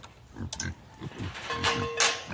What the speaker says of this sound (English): the pigs are waiting for me